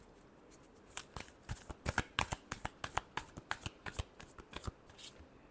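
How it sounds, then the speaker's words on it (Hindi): Tarot cards being shuffled by hand: a rapid run of crisp riffling flicks and slaps, close and fairly quiet, repeating in an uneven rhythm with no voices. "last shuffle"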